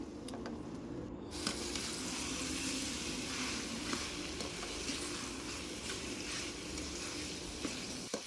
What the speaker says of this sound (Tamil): இப்போ அது கூடவே இறாலும் சேர்த்து நல்லா கிளறி விட்டுக்கோங்க.